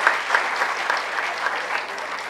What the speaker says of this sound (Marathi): जोरदार टाळ्या वाजून आपण त्यांचं अभिनंदन करूया